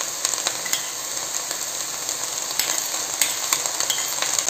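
Spiced paste frying and being stirred in a pan for peas usli, with a steady close sizzle broken by sharp scraping strokes of the spoon at an irregular rhythm, no voices.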